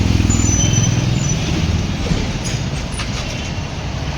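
A steady low rumble of a passing metro train mixes with continuous road traffic, loud and close, fading slightly as it moves on.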